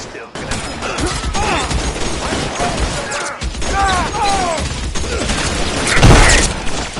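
Loud bursts of gunfire from an L.A. Noire shootout, with dense chaotic shots and impacts running throughout, a heavier blast near the end, and shouting voices mixed in.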